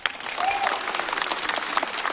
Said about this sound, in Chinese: 我们再次把掌声送给白小白